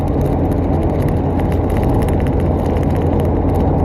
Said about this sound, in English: Trying to drive between two semis.